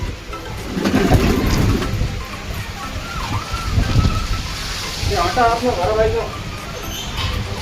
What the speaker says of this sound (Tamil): லைட்டாக மழை வந்துட்டுருக்கு. லைட்டாக சத்தம் கேட்குதா ஃப்ரெண்ட்ஸ்?